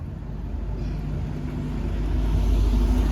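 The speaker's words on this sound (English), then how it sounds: "There's a car coming." A car approaches on a road as a low engine rumble, growing steadily louder toward the end, with no talking over it.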